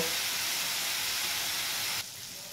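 Spices in a pan with a little water hiss and steam loudly and steadily for about two seconds, then the sound drops abruptly to a quieter, softer sizzle.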